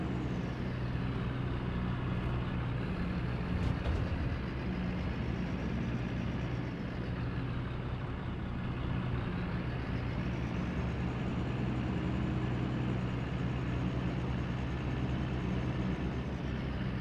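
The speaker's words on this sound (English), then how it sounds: "I want to take it slow while the engine is still warming up" A farm vehicle engine warming up in a farming video game, a steady loud droning rumble that holds constant throughout with only slight swells, no voices.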